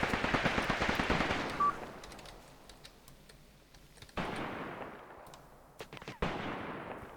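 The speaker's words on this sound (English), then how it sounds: "They're shooting at somebody." Video game firefight in Graviteam Tactics, forest fighting at a bridgehead: a rattling volley of rapid shots fades into scattered distant cracks, then two more heavy bursts break out later, with faint talk underneath.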